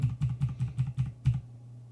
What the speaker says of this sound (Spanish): apretando la tecla Shift y con la tecla hacia abajo